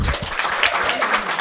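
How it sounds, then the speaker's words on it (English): An audience at a startup pitch event gives a short burst of steady, fairly loud applause, with faint voices underneath. "Let's give them a big round of applause."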